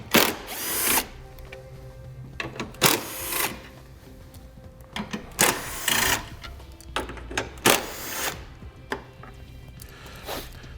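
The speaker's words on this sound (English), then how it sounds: "Then we'll have to remove, there's 10mm bolts." A power tool whirs in short repeated bursts while removing 10mm bolts during a Roadmaster Direct-Connect base plate install, up close with pauses between runs.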